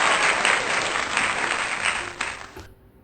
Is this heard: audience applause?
yes